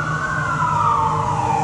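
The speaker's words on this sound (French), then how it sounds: "Le son des alarmes, là c'est des pompiers." A fire engine siren sounds outdoors, one long wailing tone slowly falling in pitch over traffic rumble, loud and steady throughout, with no talking.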